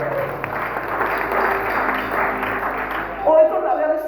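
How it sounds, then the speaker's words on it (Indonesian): Church congregation clapping in praise during a revival service, a steady wash of hands over a few seconds with voices mixed in and a brief shout near the end. "kasih tepuk tangan bagi Tuhan"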